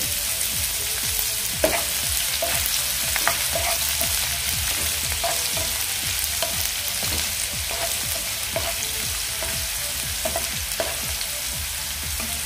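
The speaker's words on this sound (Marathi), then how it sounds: "आता यामध्ये आपण कांदा घालून घेऊया। एक मीडियम साईजचा कांदा मी बारीक चिरून घेतलेला आहे।" A finely chopped medium onion fries in a pan for bitter gourd curry, making a loud, continuous sizzle dotted with light scraping clicks from stirring. There is no speech.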